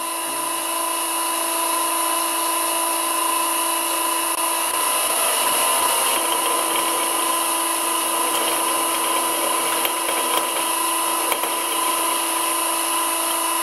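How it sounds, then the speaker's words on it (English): Drill bit boring through metal stock while making chuck wedges, a steady, loud whining grind with sustained tonal harmonics that holds continuously throughout, close to the microphone and with no talking. "It's annoying you have to back off the drill bit"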